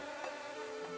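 Insects buzzing in an animated Kid-E-Cats cartoon, a steady, even drone with a faint wavering pitch, moderately quiet and with no talk.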